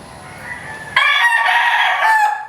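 A straight-combed California Dom gamecock rooster crows loudly and close, one strong sustained harmonic call breaking in after a moment of quieter bird noise, with no talk over it.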